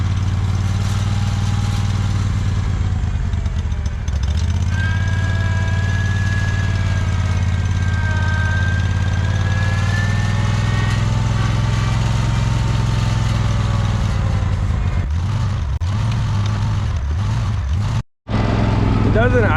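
A John Deere 317 lawn tractor engine runs at a loud, close idle with a droning hum that wavers and stumbles unevenly, briefly cutting out near the end before catching again.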